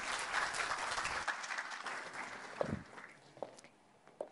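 A demo day audience applauds a presenting team at the end of its pitch. Dense clapping fills the first half, then thins out into a few scattered, faint claps, heard quietly and at a distance.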